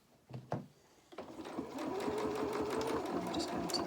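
A sewing machine stitches a seam on jeans, with a few faint clicks and handling sounds before a steady, close, continuous motor whirr.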